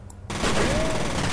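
Enemy shotgun fire in the first-person shooter F.E.A.R. bursts in loudly after a brief quiet moment, then continues as a dense, sustained volley of blasts and crackle.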